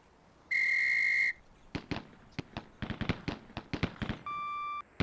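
A shrill whistle signal sounds in the Police Quest SWAT video game, followed by a rapid series of sharp gunshots at a firing range, then a short electronic beep.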